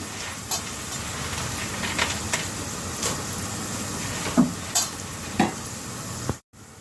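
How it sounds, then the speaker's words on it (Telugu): Curry leaves go into a hot pan with onion pieces, producing a steady dense sizzle and frying hiss, close and continuous, with a few faint clinks and stirring scrapes on top. "ఇప్పుడు కొద్దిగా కరివేపాకు వేస్తున్నాను తర్వాత మిల్లినాక వేస్తున్నాను"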